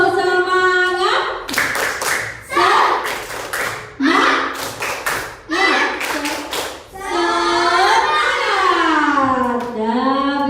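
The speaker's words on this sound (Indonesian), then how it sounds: "tepuk semangat" Children in a classroom do a rhythmic spirit clap, sharp hand claps in quick patterned bursts alternating with short chanted voices, ending in a sustained group vocal call.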